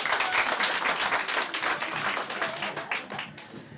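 Crowd applause at a New Year 2017 event, dense clapping from many hands sustained throughout, fairly loud and even with a slight fade toward the end.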